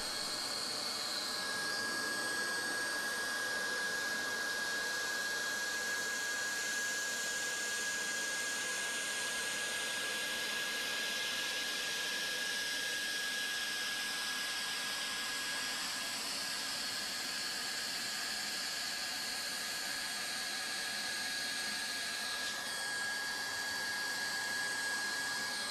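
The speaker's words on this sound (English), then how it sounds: "Groove and weld the back miter and makeout section" A hot air welding gun runs steadily while heating a welding rod into a grooved back miter of vinyl flooring, giving a continuous airy hiss and whine, with no talk.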